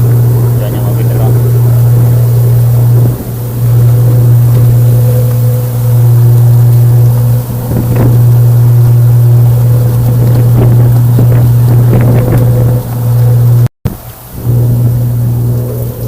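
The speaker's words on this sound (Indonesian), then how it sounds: "Hujan deras disertai angin kencang." Heavy rain and strong wind aboard a passenger ship at sea in Banggai Laut waters, a constant hissing wash over the loud, steady drone of the ship's engine, with a few voices and a brief dropout near the end.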